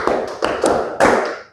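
Children clap their hands together in short bursts, with four or five crisp claps following one another in quick rhythm, close and fairly loud, then fading out.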